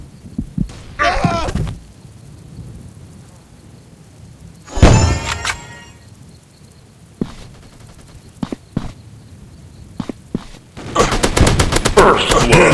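Gunfire in the shooting game Free Fire, on a rainy town map, comes as a mix of loud automatic bursts and single sharp shots with dull thumps in between, ending in a dense rattling burst.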